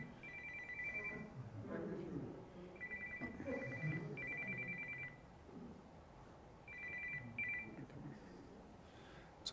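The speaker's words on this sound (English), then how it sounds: "This is the phone I can't turn off." A telephone rings indoors during a wildfire protection forum, several bursts of a repeating electronic ring spread across the span, fairly faint under room murmur and a person speaking.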